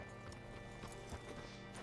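A horse in Red Dead Redemption 2 clip-clops steadily at close range, with a hint of a whinny among the hoofbeats.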